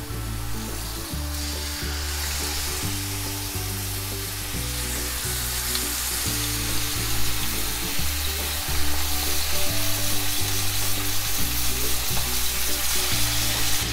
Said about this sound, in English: Ooh, a nice sizzle.